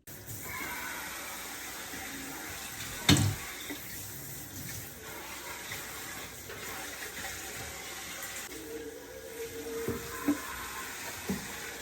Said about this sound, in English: we're about to pour it in our sauce and pasta mix